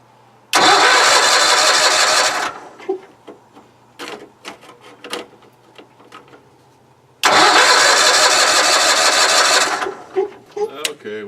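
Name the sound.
sawmill engine starting after fuel primer fix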